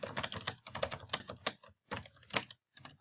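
Quick, light clicking of fingers typing text on a computer keyboard, in quiet close bursts of rapid keystrokes broken by short pauses.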